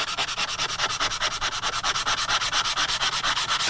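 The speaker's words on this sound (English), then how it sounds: "you know that you've sanded enough when you don't see those lines" Wood is sanded by hand in quick, even back-and-forth strokes, each a close raspy scrape, repeating in a steady rhythm for several seconds with no talking.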